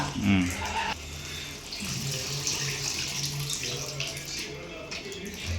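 Water splashes and gushes steadily into a cooking pot of fish curry with mango, a continuous pouring sound with voices murmuring faintly in the background.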